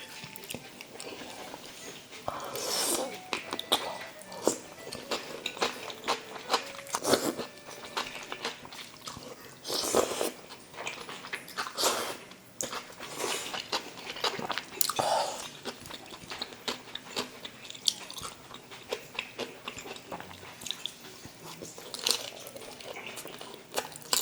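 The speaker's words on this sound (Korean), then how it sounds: "음, 난 사천탕수육 처음 먹어봐" Crunchy bites and chewing of Sichuan-style tangsuyuk, spicy sweet-and-sour fried pork, eaten close to the mic, with crisp bursts of crunching spread across the stretch between quieter chewing and no talk.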